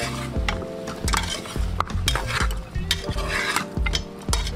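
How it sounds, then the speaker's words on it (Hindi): Bone-in and boneless mutton being stirred in a pot or pressure cooker for Peshawari namkeen gosht: repeated scraping and clanking of a spoon against metal, loud and close over a soft sizzle, with no talking. "एक दफ़ा इसको अच्छी तरह से हिला लेंगे।"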